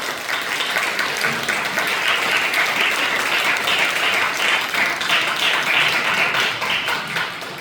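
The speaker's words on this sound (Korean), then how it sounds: "선교사님 나오실 때 큰 박수로 환영해 주시기 바랍니다" A church congregation at a young adults' worship service welcomes a missionary with loud, sustained applause, an even, continuous wash of many hands clapping throughout.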